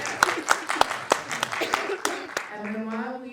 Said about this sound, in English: let's go ahead and give another round of applause for Jamie and Trevor and the entire team